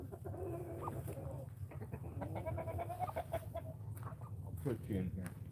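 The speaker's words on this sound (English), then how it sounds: "Poor little chicken." A chicken on a farm clucking several times in close, irregular bursts, with a person talking softly alongside.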